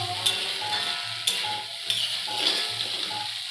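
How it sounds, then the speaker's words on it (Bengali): Peas being fried with spices for ghugni, giving a gentle sizzle with regular spatula strokes roughly once a second and low tonal notes running beneath. "এবার মটরগুলো মশলার সঙ্গে হালকা কষিয়ে নিয়ে তারপর আমি ঝোলটা দিয়ে দেব"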